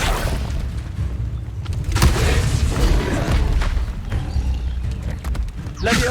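A fire spell, Incendio, is cast in Hogwarts Legacy with a deep booming whoosh that swells into a rumbling burst. Sharp spell and impact effects come around it, and the game sound stays loud throughout.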